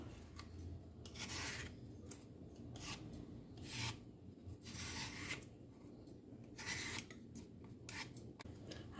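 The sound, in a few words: peeling skin off an apple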